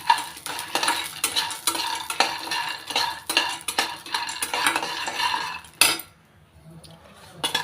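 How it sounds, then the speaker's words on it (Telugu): Peanuts dry-roasting in a pan, stirred with a spoon: steady rhythmic scraping and rattling, close and fairly loud, that stops abruptly near the end, leaving a quiet tail. "వేరుశనగపప్పు వేయించుకుంటాం"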